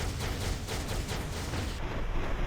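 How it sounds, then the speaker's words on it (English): A big explosion in the mobile game Marvel Future Fight, a dense, rumbling burst of blasts that stays loud and rough for a couple of seconds with no voices. "a big explosion"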